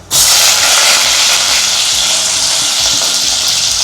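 Onions drop into hot oil in a pan and burst into a loud, steady sizzle that starts abruptly and holds at full strength, close and continuous.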